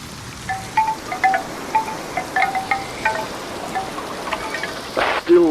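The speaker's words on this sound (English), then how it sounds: "The same is true of the sounds of the wind in the trees." Wind moving through trees in a VR experience soundscape, a steady airy rush with scattered small chirps over it and a louder gust near the end.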